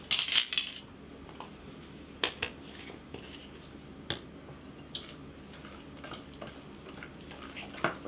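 A spoon stirs pumpkin pie spice into batter in a bowl, giving faint, scattered clinks and scraping against the bowl with a few sharper taps, no talking.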